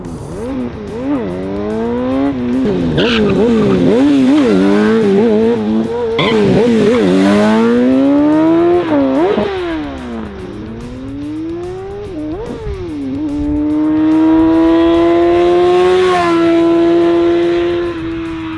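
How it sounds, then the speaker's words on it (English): A 1993 Honda CBR F2 600cc sport motorcycle revs hard while ridden during a wheelie attempt, its engine note climbing and dropping in repeated loud sweeps, then holding a long high whine near the end. "this is my 1993 CBR F2 600cc bike"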